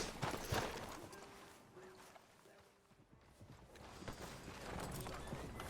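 Horse hooves clip-clop in the video game Red Dead Redemption 2, a steady rhythm of beats under voiced dialogue and ambient game sound.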